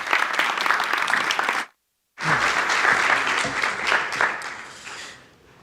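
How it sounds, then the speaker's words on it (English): Audience applause after an introduction at a science event, a dense sustained wash of clapping that breaks off briefly and then resumes strongly before fading out. "A big clap for Unai Andueza."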